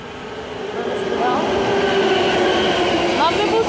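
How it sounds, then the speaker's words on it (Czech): A Railjet train pulls into a station with a steady rolling rumble and occasional faint wheel squeals, heard from the platform. "Taky lidi, už na tady přijíždí vlak."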